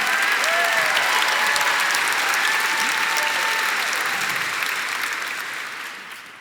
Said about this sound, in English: Round of applause for Anna, everybody